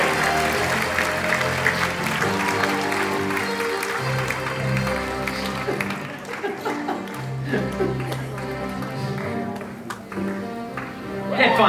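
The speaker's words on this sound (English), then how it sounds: "That's all the applause we needed" Theatre audience applause at a celebrity theatre sports show, a sustained wash of clapping mixed with music-like tones, some laughter and talk threaded through.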